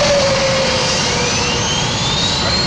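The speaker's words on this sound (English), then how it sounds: "Time to start the engines." A 1960 jet airliner engine spools up during start, with a loud, steady roar and a thin rising whine climbing over the whole stretch, heard close.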